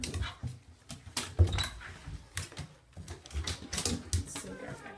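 A puppy gives a few short barks and whimpers outdoors at night, close by and fairly loud, mixed with footsteps and handling noises while a person talks to it.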